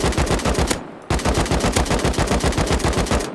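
Rapid automatic gunfire at a long-range shooting range in the game Rust, loud and close, a sustained burst that breaks off briefly and then resumes with a steady stream of shots.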